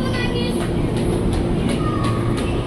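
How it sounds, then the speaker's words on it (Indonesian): A ten-car JR 205 series KRL commuter train departs the platform, its steady rumble and rail noise filling the scene with periodic clicks, close and continuous. "10 kereta berangkat ya."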